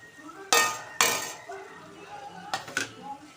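Fried potatoes being stirred with spices in a pan for a Bengali lote fish curry, with four sharp clinks and scrapes of utensil on metal spread over a few seconds, close by and fairly loud.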